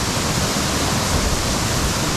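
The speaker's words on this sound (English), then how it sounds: "Take a look at the waterfall from down underneath of here" A waterfall in Samaipata roars from directly underneath, a dense, loud, unbroken wash of falling water filling the whole clip.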